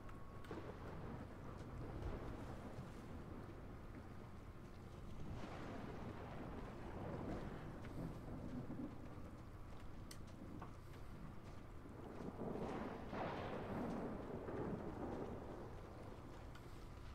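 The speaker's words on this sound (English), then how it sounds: "Another storm." A video-game storm in Ark Survival Ascended: steady wind and rain with rolling thunder swelling and fading several times, all fairly quiet.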